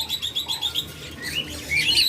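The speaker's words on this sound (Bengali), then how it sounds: "রাজবিকার পাখি" A pair of budgerigars chirps in a cage, with bright, quick tweets repeating in bursts close by, growing busier and louder toward the end.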